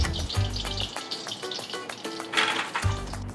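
Chicken drumsticks refrying in hot oil in an iron kadhai, a steady crackling sizzle with periodic bursts and low rumbling thumps as pieces shift, close up with no voices.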